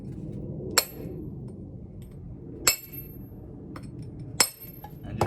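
A hammer strikes the edge of soft sandstone three times at slow, even intervals, each blow a sharp, bright clink over a low steady background rumble.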